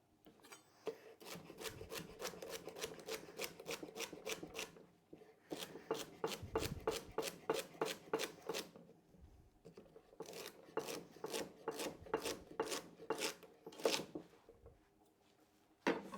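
A knife chops celery on a cutting board in a home kitchen, fast even runs of crisp close-up taps broken by short pauses, with no talk over them.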